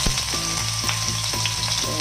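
Oil sizzles loudly and continuously in a pan while sautéing the base for chicken curry, with regular stirring scrapes about every half second, close and without talk.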